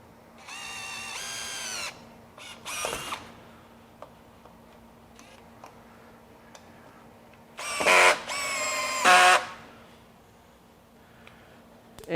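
A Greenworks 24V brushless drill/driver sinks a 3-inch outdoor deck screw, with several short motor whirs separated by quiet pauses, close up and moderately loud.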